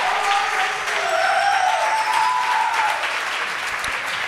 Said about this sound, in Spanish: Un aplauso para Maje, que se mete en una final